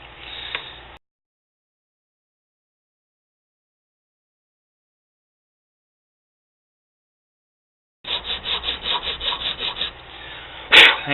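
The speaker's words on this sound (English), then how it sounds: "I just use a metal file." Metal file rasping across a Monster Energy can stove, short strokes at the start, then after a long silence a close, steady run of rhythmic scraping strokes ending in a sharp bright scrape.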